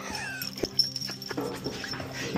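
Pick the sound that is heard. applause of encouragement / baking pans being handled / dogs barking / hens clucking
dogs barking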